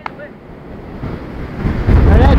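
Heavy wind buffets the microphone at an outdoor football match in a low, rumbling roar that swells louder toward the end, with faint voices buried underneath.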